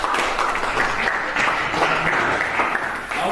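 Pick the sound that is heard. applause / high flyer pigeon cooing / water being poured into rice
applause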